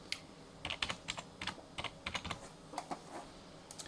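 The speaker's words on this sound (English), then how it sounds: "So it's just type in restricted." Rapid, uneven keystrokes on a computer keyboard, typing a search term while installing Linux; the clicks are close and moderately quiet, with no talking.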